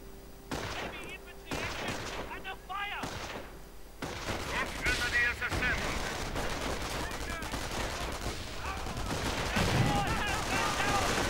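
Rapid gunfire and sniper shots in a World War II real-time strategy game, with Panzergrenadier infantry under fire: dense crackling bursts and sharp pops packed together, loud and continuous, with a commentator talking throughout.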